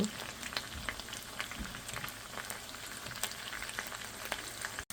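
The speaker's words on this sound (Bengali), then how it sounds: "এভাবে আমি সবগুলা ভেজে নেব" Chicken chaap pieces frying in oil, a soft, steady crackle and hiss with scattered pops, fairly quiet and close, without speech.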